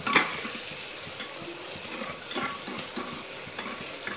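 Onions frying in oil in a pan while a spoon stirs them over raised gas heat; a continuous sizzle with soft scraping strokes and light clinks at irregular intervals, close and clear.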